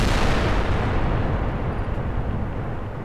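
A loud, rumbling explosion fills the whole moment with a dense, sustained roar that fades only slightly, typical of a blast in the video game Fallout: New Vegas.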